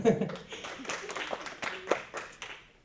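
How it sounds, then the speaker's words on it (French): Scattered applause from a late-evening audience at an academic conference on migration in Belgium, soft and somewhat distant, with a voice speaking over it before the claps thin out and fade. "Je pense que vous méritez quelques applaudissements."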